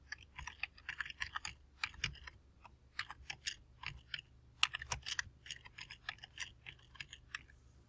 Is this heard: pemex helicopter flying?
no